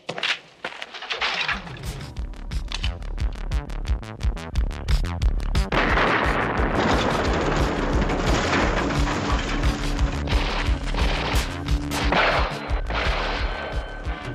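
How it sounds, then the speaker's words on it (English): Rapid gunshots in a 1984 action film shootout, a loud, dense burst of overlapping bangs and booms that goes on for most of the span with no clear speech. "Shots are fired."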